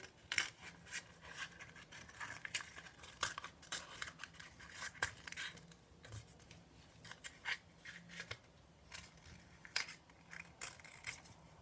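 Scissors snip through yellow paper in a quiet room, giving a steady run of short, crisp cuts and rustles close by with no talking.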